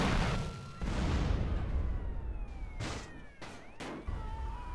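Rocket launcher fire in GTA San Andreas Definitive Edition, a roaring blast followed by several sharp bursts and a whistling streak, loud and close over constant low rumble.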